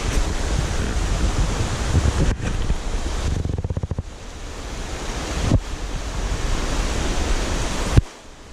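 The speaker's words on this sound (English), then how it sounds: "It's just a lovely little tumbling creek." A small tumbling creek in a Pacific Northwest forest rushes steadily as loud, broadband water noise, with abrupt cuts and brief gusty wind buffeting on the microphone.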